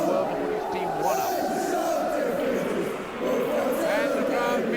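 A packed football crowd roars after Bobby Gould's goal for Coventry against Bolton, a sustained dense swell of cheering and shouting that dips briefly then surges again, with a commentator speaking over it.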